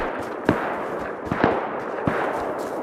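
Gunfire crackles from a distant fight near the outpost in the video game Rust, a few scattered sharp shots rising out of a steady noisy background, faint and far away.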